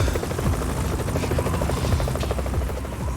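A Tokyo Police helicopter in the video game Yakuza: Like a Dragon thunders close overhead, its rotor chopping in a fast, loud, steady pulse over a low engine drone, with no talking.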